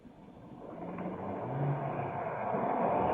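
A car pulls away fast after starting up, its engine noise building steadily and growing louder over a few seconds as it accelerates, heard from a distance with no talking.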